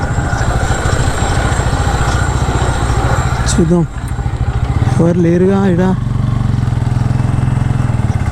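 Motorcycle engine idling and rumbling steadily up close while riding into church grounds in Telangana, someone talking briefly over it.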